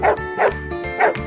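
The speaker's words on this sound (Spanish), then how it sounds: "Aquí tenemos al perro." A dog barks three times in a steady rhythm, each bark loud, close and clear with no other sound around it.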